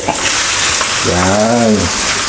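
Beef tenderloin fries with onion and garlic in a hot pan, giving a steady close sizzle throughout, with a brief tonal hum rising in the middle.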